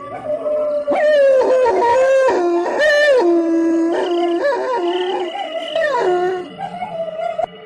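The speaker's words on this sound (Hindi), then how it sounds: "सभी कुत्ते भी उसका पीछा करने लगते हैं।" Several dogs chasing a witch toward a well let out long, wavering howls mixed with yips, loud and close, overlapping almost continuously for about eight seconds with no talking.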